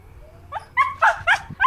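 A dog out on a walk lets out a quick run of four sharp, loud barks close by, preceded by a brief whine.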